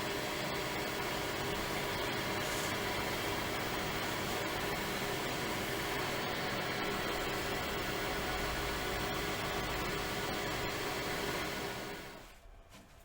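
A wood lathe turns a pear-shaped vase at 1000 RPM, giving a steady close whirring hum with a broad airy hiss that holds evenly and then drops away as the machine winds down at the end.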